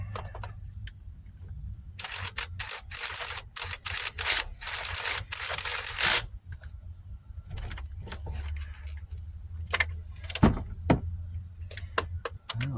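Metal tool sounds from working on a 2005 Ford Focus starter: a swivel socket is fitted onto the starter bolt, with bursts of jingling, clinking and rattling metal, close and fairly quiet, followed by scattered single clicks and knocks, no talk.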